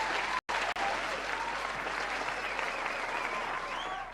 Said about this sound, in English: Can he get a round of applause?